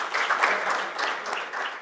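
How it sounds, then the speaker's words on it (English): An audience breaks into steady applause at a festival-related event, a dense wash of many hands clapping close and fairly loud, continuous for the whole short stretch without voices on top. "Let's have a huge round of applause for him and his team."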